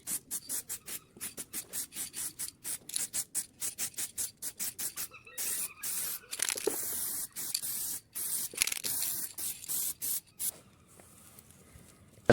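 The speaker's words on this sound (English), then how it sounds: "I'm going to put some DHT spray on them" Short bursts of DHT aerosol spray hiss onto old diesel engine parts from a VW 1.9 PD, a rapid series of close, sharp sprays in quick rhythm with a few longer blasts and pauses.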